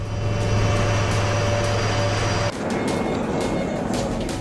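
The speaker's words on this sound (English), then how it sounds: "transport helicopters like the Dhruv and Mi-17" Transport helicopters, Dhruv and Mi-17, in a heli-drop exercise with troops produce a steady loud engine and rotor drone with a low hum that shifts midway as the aircraft moves, with no voices.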